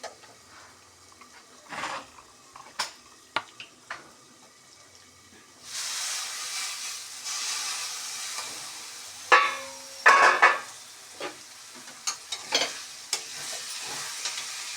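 Bitter gourd curry sizzles and catches in a pan, with a broad frying hiss that swells midway. Scattered clinks and scrapes of stirring and a brief trickle of water come and go, and the sound is fairly quiet overall.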